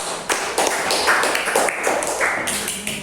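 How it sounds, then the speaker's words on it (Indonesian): A school class applauds a student group after its presentation, a dense and steady patter of many hands clapping close by for about three seconds. "Kita kasih aplaus untuk kelompok 3"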